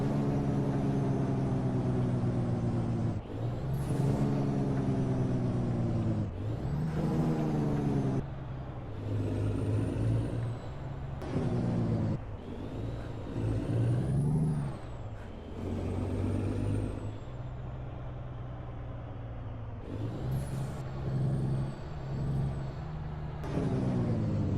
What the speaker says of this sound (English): And we'll do the Jake brake.